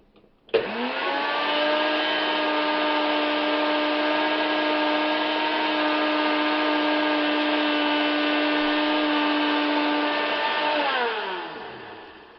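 A blender grinds oats into a fine powder: the motor starts abruptly, runs at a steady high whine for about ten seconds, then winds down. It is close and loud, with no talking.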